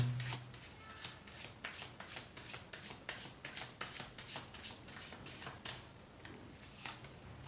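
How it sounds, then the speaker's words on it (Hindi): Tarot cards being shuffled and drawn by hand, a quiet rapid series of riffling flutters and soft slaps repeating steadily, close and faint, with no talking. "थोड़ा सा और कार्ड्स यहाँ निकाल लेते हैं।"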